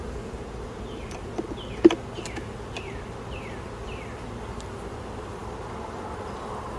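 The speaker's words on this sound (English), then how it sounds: "These bees are really gentle." Honeybees from a package colony hive buzz in a soft, continuous drone, with several individual bees whizzing past close by in short, sweeping passes.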